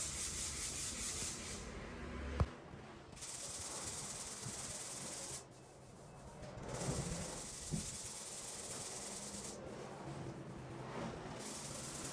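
Long, steady strokes of sandpaper rasp against hardened body filler on car bodywork, a loud hissing scrape repeated with brief pauses between passes.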